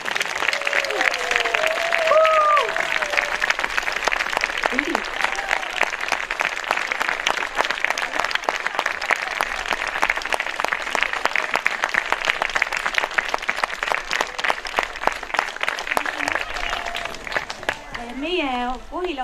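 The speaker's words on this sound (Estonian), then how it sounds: "teeme neile ka veel ühe kõva aplausi." A theatre audience claps loudly and steadily for the Kohila Hooviteater team, a dense, sustained round of applause with a few voices calling out briefly near the start and end.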